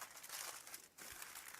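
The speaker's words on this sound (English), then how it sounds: "And then you just wrap it up in tin foil" Tin foil is wrapped around buttered, seasoned vegetables at an RV campsite fire, a quiet close crinkling and rustling over less than two seconds.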